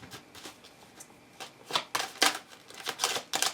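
Tarot cards are gathered and shuffled close up in a series of soft riffling bursts and papery slaps that grow busier toward the end, with no voices.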